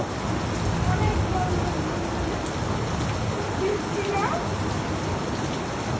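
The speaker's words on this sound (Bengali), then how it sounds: "বৃষ্টি জোরে হচ্ছে না" Rain falling steadily outdoors, a dense and even hiss of drops that stays at the same loudness throughout.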